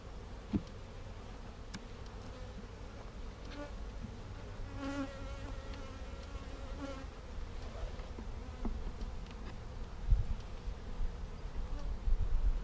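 Honeybees buzz steadily around open hive frames during a brood and feeder check, a dense continuous drone close by that grows slightly louder and busier toward the end, with no talking.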